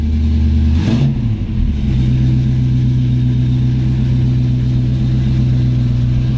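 A 1937 Ford Club Coupe street rod's 351W V8 engine turns over and catches, then settles into a steady, loud rumbling idle close by.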